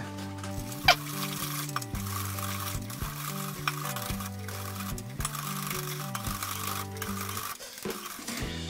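A spoon stirs tiramisu egg mixture in a pot on the stove, keeping up a steady, continuous scraping rhythm close by with no talk.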